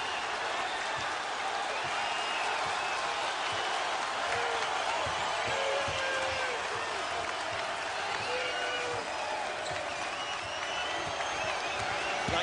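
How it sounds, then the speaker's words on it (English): Home crowd at the Prudential Center for a Louisville at Seton Hall men's college basketball game, a loud sustained roar of cheering and applause filling the arena for over twelve seconds, with commentary faintly beneath. "Here comes the crowd at the Rock."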